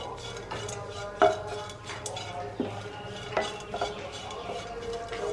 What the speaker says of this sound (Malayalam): ബ്രൗൺ കളർ ആവുന്നതുവരെ അത് വറുത്തെടുക്കണം